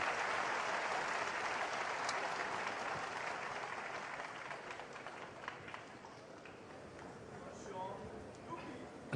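Snooker crowd at the Shanghai Masters 2024 final between Judd Trump and Shaun Murphy applauding a potted plant, a warm burst of clapping that slowly fades while a commentator talks.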